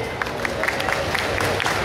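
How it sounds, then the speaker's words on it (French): A festival hall crowd in Grenoble applauds and cheers, a dense, steady wash of many hands clapping with scattered whoops, fairly loud and continuous. "on applaudit encore bien nos sponsors de la CIC"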